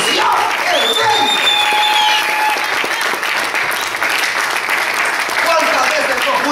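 A church congregation applauding together, dense continuous clapping that is loud and sustained, with cheering voices mixed in.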